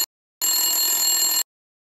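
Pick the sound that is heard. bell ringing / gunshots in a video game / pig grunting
bell ringing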